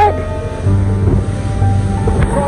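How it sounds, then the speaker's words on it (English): Ocean waves surge and wash over slippery rocks at a coastal camp point, a loud continuous rushing roar with wind buffeting the microphone close by. "Trying to dodge the waves."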